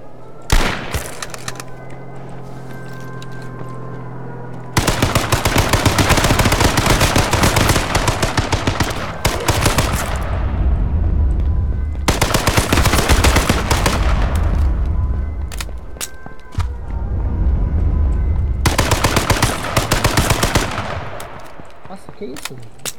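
Long bursts of rapid automatic gunfire from a video game firefight, loud and dense, broken by short pauses and single shots, with some speech underneath.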